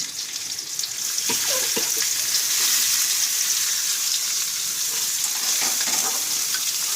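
Onions and a handful of garlic cloves sizzle in hot oil in a pan while being fried for a hilsa fish bharta, a steady close frying hiss with a few clinks of stirring near the start.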